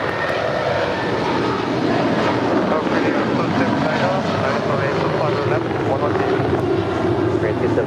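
An airliner takes off from runway 25 right at LAX, a loud continuous engine roar that holds steady throughout, with radio voices talking over it.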